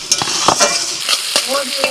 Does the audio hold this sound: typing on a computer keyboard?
no